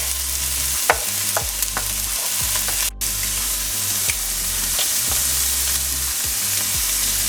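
Onions frying in a pan before ground beef goes in: a loud, constant sizzle runs throughout, broken by a few sharp scraping stir strokes and brief clicks of a utensil against the pan, with no voices.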